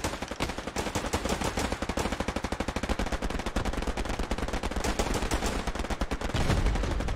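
Rapid, continuous automatic gunfire in the World War II shooter Hell Let Loose, loud and close, a dense rattling stream of shots running for several seconds without pause.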